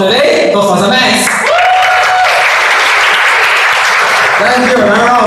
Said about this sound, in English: round of applause to our Toastmaster Franco